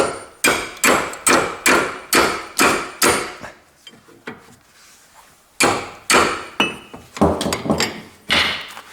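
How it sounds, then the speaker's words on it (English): Repeated sharp hammer blows on a Toyota Corolla's suspension parts while removing track rod ends and ball joints, a rapid series of strikes, a pause, then another burst of hits, close and loud. "There is my hammer, and then I hit in here."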